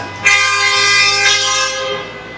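A car horn sounds in a parking area at Dubai Mall as one loud, close, sustained blast lasting about two seconds, with nothing else around it.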